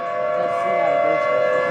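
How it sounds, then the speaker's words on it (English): Tornado sirens wail during a big storm with fast-moving clouds, a steady, loud, sustained tone that holds throughout with a faint low rumble beneath. "clouds are moving really fast and there's tornado sirens going off"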